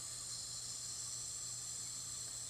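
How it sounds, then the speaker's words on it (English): A garden hose shower nozzle soaks a vegetable seed bed, giving a steady, even hiss of fine spray that runs unbroken and fairly close. "I'm going on the shower, giving the rest of the bed a good soak"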